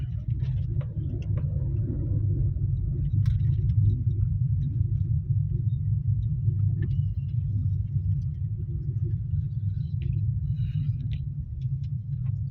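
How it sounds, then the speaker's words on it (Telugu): Steady road traffic with lines of two-wheelers and cars, a continuous low engine rumble that holds level throughout with no talk over it. "రోజు ట్రాఫిక్ ఇలా ఉంటుంది"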